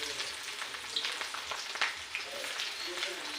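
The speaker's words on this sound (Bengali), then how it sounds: "তেলটা গরম হয়ে গেছে, পেঁয়াজ কুচিটা দিয়ে দেবো" Chopped onion hits hot oil for a homemade chicken curry, giving a close, lively sizzle with crackling pops throughout.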